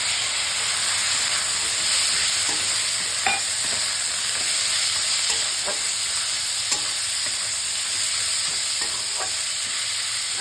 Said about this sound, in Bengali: শিম বীজগুলো দিয়ে দেবো।